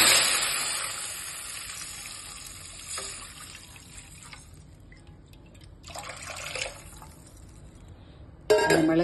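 Tamarind water is poured into a hot pan while making pineapple rasam, giving a loud initial sizzle and splash that fades into softer hissing and trickling, with a few brief renewed bursts and a sudden sharp sizzle near the end.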